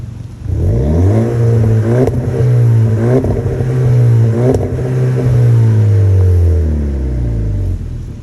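The 2011 Volkswagen Golf TSI engine revs up from idle in several rising and falling pulls, loud and close, then settles back down near the end with no talking.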